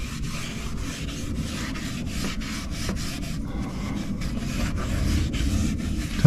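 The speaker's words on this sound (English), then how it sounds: "And just applying it with some steel wool." Steel wool rubbing Howard Restore-A-Finish in mahogany onto old wood door trim during an attic dormer door install, a steady close scratchy scrubbing with repeated strokes and no talking.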